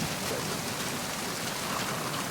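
Steady rain falls throughout a scene in the video game Metal Gear Solid 2, a soft, even hiss of drops on surfaces with no speech over it.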